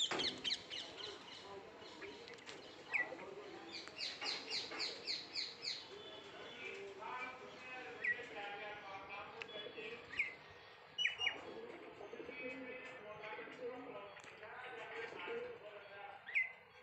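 Myna birds chirping and calling in a busy series of bright, varied, repeated notes, a young myna among the adults, with brief pauses between bursts.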